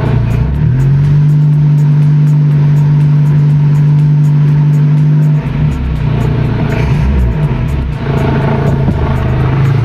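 Car engine fitted with a Pierburg 2E carburetor being repaired for jerking, unstable idle and poor starting, running loud and close at a steady hum, then briefly revving and settling into a rougher rumble.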